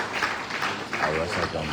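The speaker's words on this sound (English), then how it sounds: "A round of applause again." Applause from an audience at a high-level government meeting at Monrovia City Hall in Liberia, a short burst of clapping heard close and mixed with a speaking voice.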